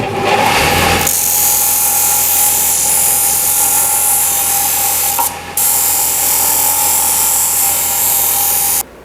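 A power drill spins steadily with a high whine while a homemade metal P-clip for a fuel, brake or oil line is shaped on the bit, continuous and close, with a brief dip near the middle before running on to the end.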